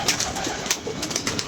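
Pigeons perched outside coo softly and repeatedly at close range, with faint rustling and background noise, no talking.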